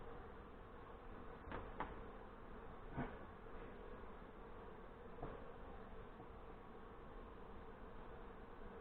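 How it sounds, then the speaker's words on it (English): Honey bees fan at the bottom of a nuc stalk during a hive install in northern Michigan. Their buzzing forms a steady, soft, continuous hum with a few louder passes close by. "I do got bees down here at the bottom, fanning at the bottom of the stalk"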